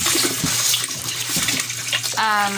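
Water runs steadily from a tap or hose, splashing continuously into a container throughout, fairly loud and close.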